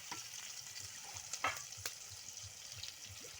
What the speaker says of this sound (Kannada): ಈಗ ಉಳ್ಳಾಗಡ್ಡಿ ಚಂದಾಗ ಫ್ರೈ ಆಗ್ಯದ್ರಿ.